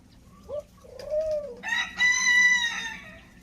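Doves beside a garden bird bath give soft short coos, followed by a longer, louder harmonic call. The birds sound fairly close over faint background noise.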